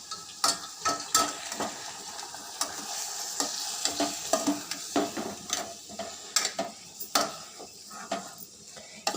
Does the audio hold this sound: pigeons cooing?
no